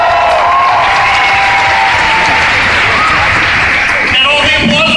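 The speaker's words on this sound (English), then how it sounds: "And all the applause I get, come on!" Audience applause and cheering fill a Comic Con Portugal panel hall, a dense, steady roar of clapping from a large crowd that holds throughout, with scattered voices mixed in.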